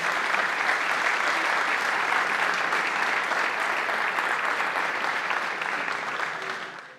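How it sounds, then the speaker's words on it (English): Applause fills a basketball awards ceremony hall, a dense, sustained round of clapping from a large crowd that holds steady for about six seconds, then fades out. "Big round of applause"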